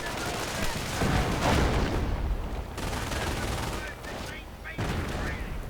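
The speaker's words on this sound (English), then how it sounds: "exposed to intense machine gun fire" Machine gun fire in a World War II strategy video game comes as dense, repeated automatic bursts with distant booms. The clatter stays moderately loud and continuous throughout.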